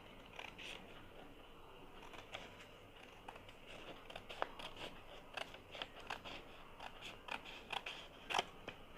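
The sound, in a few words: scissors trimming paper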